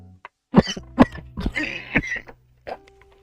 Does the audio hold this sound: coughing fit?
yes